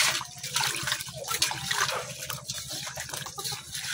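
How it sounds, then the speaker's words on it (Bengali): Dried chillies being rinsed and swished by hand in water, giving a steady splashing, trickling wash with no talk over it. "প্রথমে মরিচটা আমি ধুয়ে নিতেছি ভালোভাবে"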